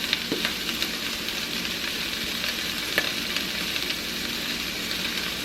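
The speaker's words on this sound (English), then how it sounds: "give that a nice stir" Italian sausage, bell peppers and onions frying in a pan, with a steady broadband sizzle and light scraping clicks as the mixture is stirred, close and continuous with no voices.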